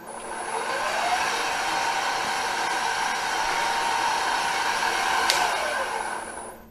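A workshop bandsaw run from a VFD at variable speed hums with a steady, airy whine that swells up, holds, and winds down, close and alone without talk.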